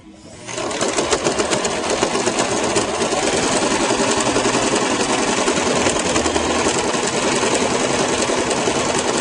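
A sewing machine runs continuously, stitching a seam around a shirt purse, with a fast, even mechanical chatter that starts abruptly and stays loud and close throughout.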